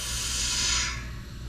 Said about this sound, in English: I'm really happy with how the compressor's working